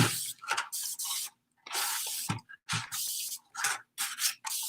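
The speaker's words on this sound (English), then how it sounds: "Okay, and I do have some water. I'm going to go ahead and just lightly spritz down" A spray bottle spritzes water onto a silk-like lampshade in a run of short hissing bursts, some close together and others separated by brief pauses, loud and close with no talking.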